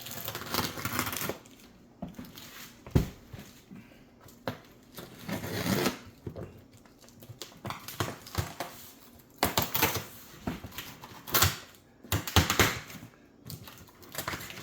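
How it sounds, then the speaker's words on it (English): Cardboard box being cut and opened by hand to unbox a ported Edelbrock Performer RPM intake manifold, with close scraping, tearing and rustling bursts and scattered sharp knocks of packaging, no speech. "So I'm going to now open the box."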